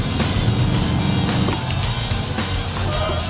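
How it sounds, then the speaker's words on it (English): A truck engine in a driving video game, descending Pikes Peak downhill with its engine light on, a loud steady mechanical drone with a rhythmic pulsing beat running continuously throughout. "As I destroy the engine going downhill."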